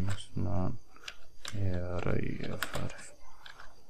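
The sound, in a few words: typing English text on a computer keyboard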